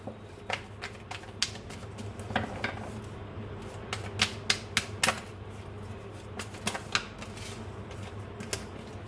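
Tarot cards being shuffled and laid out during a reading, giving irregular crisp snaps and flicks spread across the span over a low steady background hum, with no talking.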